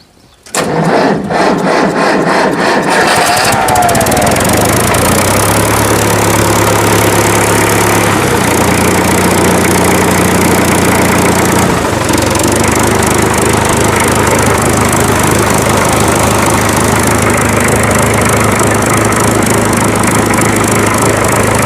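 A 1970 Russian Belarus tractor engine starts with a clattering crank, then runs loud and close, its pitch stepping up as it is revved and held at higher speed; no speech.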